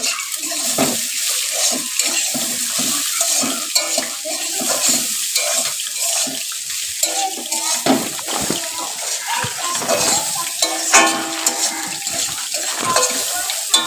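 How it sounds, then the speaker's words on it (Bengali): Fish frying in a pan, a steady broadband sizzle with scattered clinks and stirring noises layered over it, continuing throughout at moderate loudness. "আলু ফুলকপি হচ্ছে ওদিকে মাছটা ভাজা হচ্ছে"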